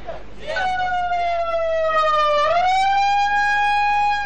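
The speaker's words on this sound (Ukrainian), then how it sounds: "Під завивання сирени" A loud siren wails steadily, its pitch dipping and then rising again, clear and close with no other sounds.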